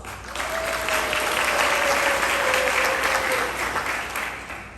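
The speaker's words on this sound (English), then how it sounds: "Give yourselves a round of applause." A crowd at the Crispus Attucks class of 2021 commencement applauds, with thick, sustained clapping and a single long whistle-like tone rising over it before the applause gradually fades.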